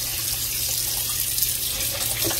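Hot water runs steadily from a tap into a sink while a sublimated dollar-store mug is rinsed, a constant close-up splashing hiss with no speech.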